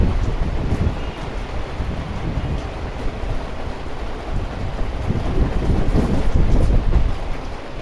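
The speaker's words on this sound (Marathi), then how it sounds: "कंटिन्युअस रात्रीपासून पाऊस आहे आमच्याकडे." Heavy, continuous monsoon rain pouring down, a dense, loud, unbroken roar with some wind buffeting, steady throughout and without any voices.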